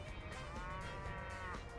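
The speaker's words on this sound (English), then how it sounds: "they added a sound system just for them to moo" Cow cutout props in the 2Fort map of Team Fortress 2 let out a long, steady, close moo that runs the whole time with no talking over it.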